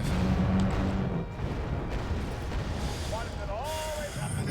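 Missile strikes explode in the Wargame Red Dragon strategy game as rumbling, artillery-like booms rolling one into another, with someone talking over the blasts.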